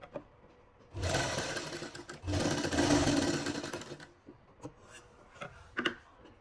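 A sewing machine stitches a sleeve onto a shoulder seam in two sustained runs of steady mechanical whirring, close and loud, separated by a short pause and followed by a few light clicks and handling taps.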